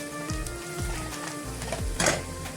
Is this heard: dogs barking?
no